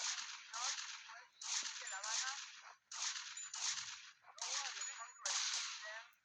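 Shotgun blasts in GTA Vice City come as about five sharp, loud bursts at a steady pace, each with a short rattling tail and brief gaps between them.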